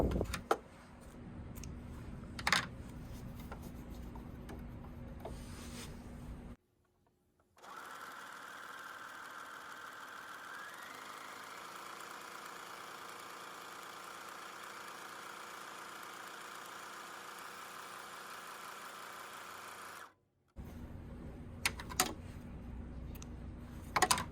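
A Juki MO654 serger runs continuously while sewing a rolled hem on muslin, a steady fast mechanical whir lasting about thirteen seconds, bracketed by quieter handling noises.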